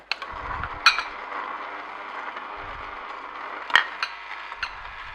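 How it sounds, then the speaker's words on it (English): An Omega VRT 352F vertical juicer hums with a steady mechanical whir. Low grinding rumbles come and go, and two sharp clicks stand out. No one speaks. "Notice a nice thing about the vertical juicer is it's basically self-feeding."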